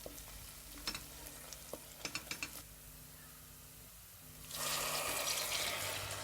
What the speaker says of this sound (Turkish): Bir tatlı kaşığı acı pul biberimi salçamın üzerine döküyorum. Güzelce karıştırıyorum.